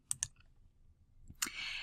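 Two quick computer mouse clicks sound close together, followed after a pause by another click and a soft hiss, all quiet and close in a homeschool online planning session.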